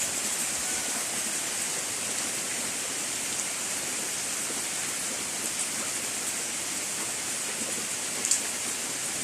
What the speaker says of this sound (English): it is still continuing to rain, so I decided to share the weather with you